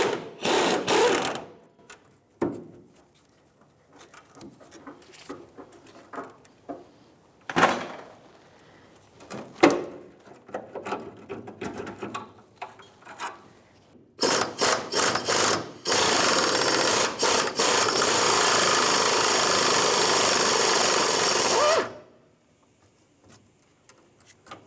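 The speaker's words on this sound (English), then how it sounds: "a 15mm socket with my air gun trying to get these to break free" A pneumatic impact gun with a 15mm socket works on the rusty fuel tank strap nuts of a 1992-1996 Ford F-150, giving short bursts, clanks and then a long loud continuous hammering run.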